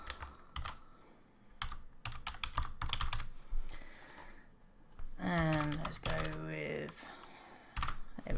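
Username being typed on a computer keyboard during an account sign-up, heard as bursts of quick clicky keystrokes, with a short stretch of higher-pitched sound partway through.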